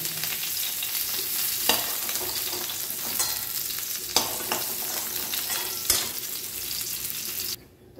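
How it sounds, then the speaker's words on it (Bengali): Cauliflower pieces fry in oil for a Bengali cauliflower and potato curry, giving a dense, steady close sizzle with a few sharp stirring knocks, then cutting off abruptly near the end; no speech. "এবারে আমাদের ফুলকপিটা ভাজা হয়ে গেছে, লাল লাল করে তুলে নেব।"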